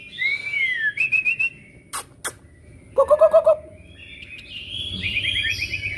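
A caged songbird sounds short, clear whistled chirps and trilled bursts, some high and some lower, over a faint room background with a couple of sharp clicks between calls.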